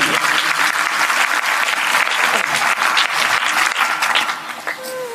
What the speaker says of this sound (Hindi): ऐसी बात में ताली थोड़ी जोरदार होना चाहिए।